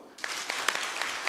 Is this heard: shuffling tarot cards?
no